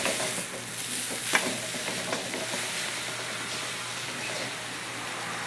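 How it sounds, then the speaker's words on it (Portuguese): Steady sizzling with a spoon scraping and stirring through frying food in a pot while making lasagna, close up, with a single sharper clink partway through. "E vamos mexer. Vamos mexer, vamos mexer,"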